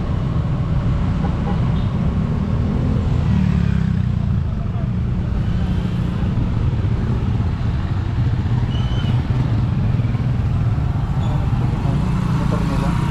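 Motorcycles rumble past in a political caravan on a road in Pangasinan, a steady, dense engine drone that holds throughout, with traffic noise and people talking over it.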